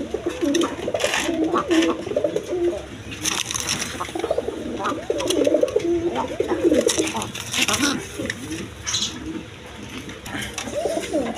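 Pigeons of various breeds kept for sale coo in repeated low, throaty phrases, several birds overlapping close by, with a human voice faintly mixed in.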